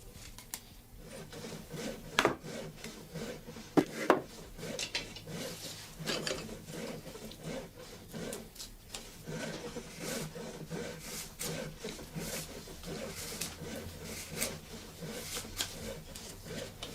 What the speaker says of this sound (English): The rake maker fits the teeth with the draw knife